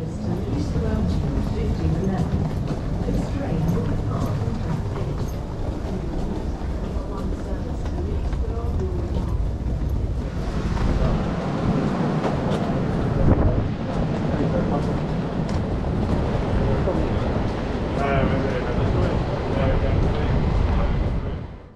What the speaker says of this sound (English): The train pulls in from the depot about 10 minutes prior to departure.